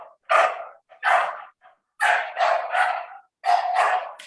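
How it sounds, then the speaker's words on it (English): A female dog barks in a short burst of sharp, close barks, some single and some in quick doubles, with brief silent gaps between them. "She's barking less."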